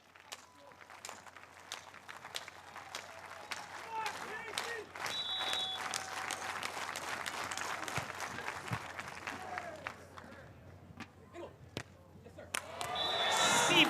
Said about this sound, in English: The slow clap starts right now